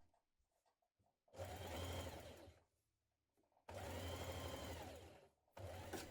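A sewing machine stitches jacket lining pieces together in two long, loud, steady runs with a quiet pause between and a third run starting at the end.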